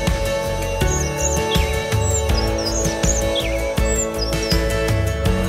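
Bird chirps and tweets from a sound effect, repeated short whistling calls layered over loud, steady children's dance music with a regular beat, no voices.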